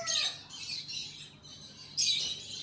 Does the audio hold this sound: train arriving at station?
no